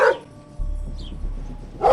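Dog barks from a video game, Schoolboy Runaway, heard in two short bursts at the start and end, with low game rumble in between.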